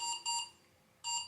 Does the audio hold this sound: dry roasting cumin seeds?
no